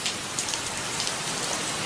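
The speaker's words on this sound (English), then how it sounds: "It's raining." Steady rain falls outside a house at night in a 2002 Napoleon Bonaparte drama, a continuous broadband hiss of drops on surfaces at moderate level, with no talk over it.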